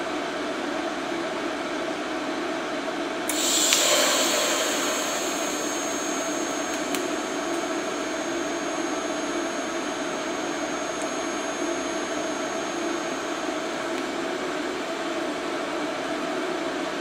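A welder tack-welds a steel pipe flange without filler wire: a steady loud electrical hiss and buzz carries throughout, with a brighter burst of arc crackle starting a few seconds in, and no talking.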